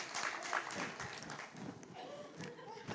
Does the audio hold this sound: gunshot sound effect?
no